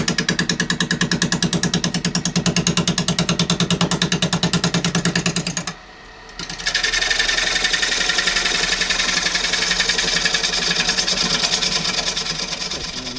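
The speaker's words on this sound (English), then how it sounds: "I'm going to start by using the roughing gouge. I'll get it up to about 500 RPM" Olive ash bowl blank spun on a wood lathe at around 500 RPM while a roughing gouge trues it round: a steady, loud, rapidly chattering cutting drone, a brief drop near the middle, then the continuous scraping hum resumes.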